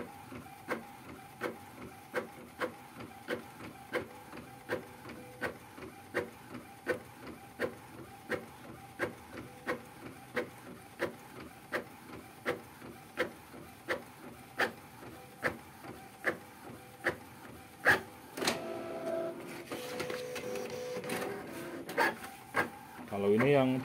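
An Epson L1300 inkjet printer runs a print job, its head carriage clattering back and forth in a steady repeating rhythm of sharp ticks and rasps, close by, with a rougher feed noise near the end.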